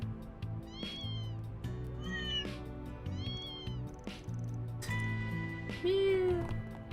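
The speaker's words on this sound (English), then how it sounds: "We can talk to the kittens!" Kittens meowing in the video game Trails through Daybreak II, several short rising mews repeated across the span over a steady low game music bed, fairly close and clear.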